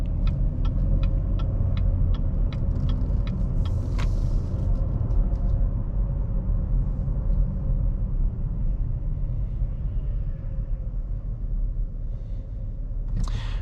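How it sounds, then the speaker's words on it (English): A 2023 Chevy Blazer RS engine roars steadily under full throttle, a loud continuous rumble with rapid ticking early on, staying strong throughout. "We'll then mash the throttle, see how the transmission reacts to that sharp throttle input"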